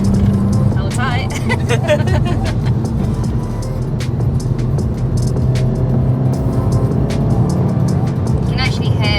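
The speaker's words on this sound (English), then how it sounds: "You can actually hear the exhaust as well." A 2016 Volkswagen Golf MK7 GTI in sports mode, its exhaust and engine droning steadily from inside the car while driving through bends, with occupants talking over the continuous rumble.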